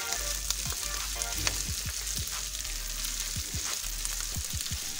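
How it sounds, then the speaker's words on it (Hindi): Whole-spice masala for keema fries in a pan with a continuous sizzle. Occasional spoon strokes and soft scrapes break through it, and no one speaks. "मसाले को अच्छी तरह हम इसमें भून रहे हैं।"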